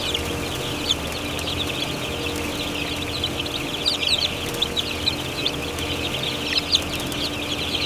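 White Plymouth Rock chicks inside a large poultry farm chirp and peep constantly in a dense, high chorus over a low mechanical hum.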